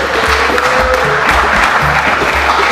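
Audience at a live event claps for a panel, continuous loud applause throughout with a low steady hum underneath.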